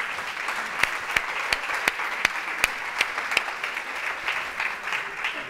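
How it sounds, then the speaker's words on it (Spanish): Audience applause fills the room steadily, with dense clapping and a few sharp, louder claps standing out at a regular pace, heard close and with no talking over it. "un aplauso para ustedes"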